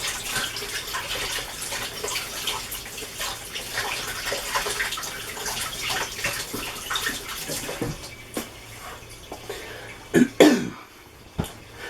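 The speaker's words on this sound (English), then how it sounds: "we decided just gonna wash my hands" Running water from a kitchen tap while hands are washed before making jam tarts, a steady broadband rush that thins out, followed by a few louder splashes and handling sounds near the end.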